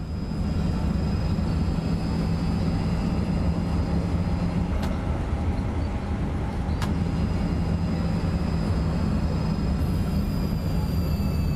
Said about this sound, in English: I do like the sounds from running through the points.